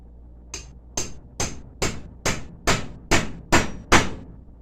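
Nine sharp, evenly spaced hammer strikes on a homemade rivet setter, setting rivets in a leather wallet strap; close, crisp metallic taps in a steady rhythm with no talk.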